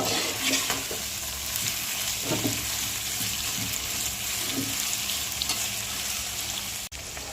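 Sliced onions for Mumbai-style kanda poha sizzle and fry steadily in a pan while being stirred, with a continuous crackling hiss and occasional soft scraping taps of the spoon throughout.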